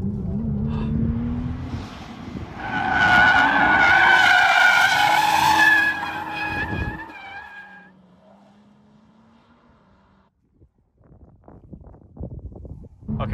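An Audi RS5 drifting on a track, its tires screeching loudly for several seconds over the engine's roar, then fading to a low idle before brief revving returns.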